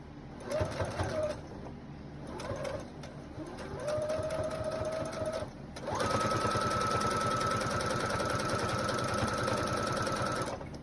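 Domestic sewing machine stitching fabric for an adult clothing cover, running in several short bursts and then one long steady run, with a speaking voice over parts of it.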